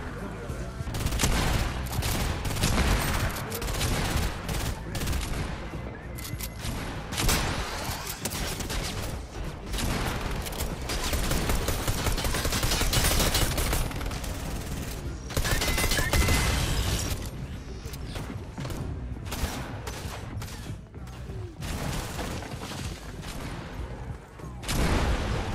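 Rapid bursts of automatic drum gun fire in Fortnite rattle almost continuously, loud and dense, with short pauses between volleys.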